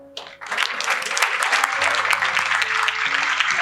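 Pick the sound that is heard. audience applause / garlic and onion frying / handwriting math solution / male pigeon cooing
audience applause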